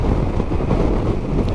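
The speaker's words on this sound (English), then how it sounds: "the wind gusts coming up were quite interesting" Strong wind gusts buffet a motorcycle rider on the Furka Pass, a steady, loud broadband roar rumbling against the helmet and bike with no break.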